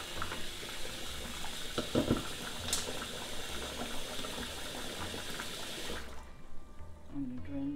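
Cold tap water gushes into a pot of cooked rice with a steady splashing hiss and a few clinks, then cuts off near the end.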